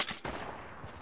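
Gunfire in the video game Fortnite, a sharp shot at the start followed by a short fading burst, quiet and brief, with no talking.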